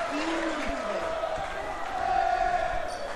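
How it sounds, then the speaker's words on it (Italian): Juve Caserta basketball fans roar steadily in an arena during a Serie B game between Salerno and Caserta, a sustained crowd swell that grows slightly louder near the end, with a commentator talking over it. "Si fanno sentire ora i tifosi della Juve Caserta"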